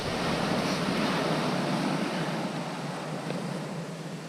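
Steady broadband wind rush blowing across an open beach at Bexhill, UK, at night, constant and loud throughout with no voices.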